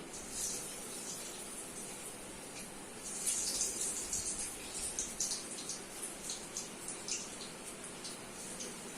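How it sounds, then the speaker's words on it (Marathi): Cabbage and pea kebabs dropped into hot oil, a soft frying hiss that swells into crackling, spitting pops partway through and keeps sizzling steadily, fairly quiet and close, no talk. "आता आपलं तेल तापलेलं आहे आता मी तेलामध्ये सोडतो"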